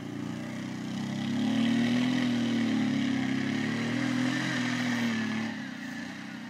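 A Prowler off-road vehicle crossing Bear Creek near Grande Prairie, Alberta, its engine droning steadily and swelling as the throttle is held, loud and close throughout.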